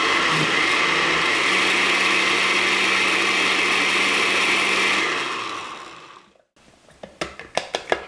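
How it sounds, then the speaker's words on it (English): A blender whirs loudly and steadily through chicken mole sauce for about five seconds, then winds down to a stop, followed by a few light clinks and knocks. "I'm gonna add a little more salt, blend it again."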